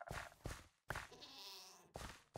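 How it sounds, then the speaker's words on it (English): Sheep in Minecraft bleat three or four times in short, wavering calls, close and alone, with brief gaps between them. "it's a ruffled sheep"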